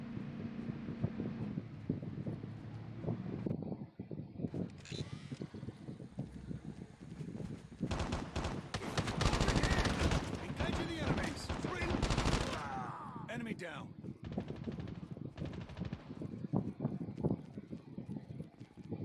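Video game gunfire crackles in repeated rapid bursts over a constant rushing background, with a denser, louder volley in the middle. Reload clicks and short in-game voice lines mix in.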